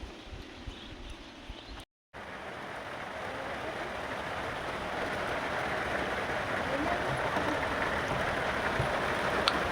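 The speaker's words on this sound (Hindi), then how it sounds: "बारिश आ गई गाइस देखो।" Steady rainfall begins outdoors, a dense hiss of drops spread evenly and building slightly in loudness after a brief dropout near the start, without speech over it.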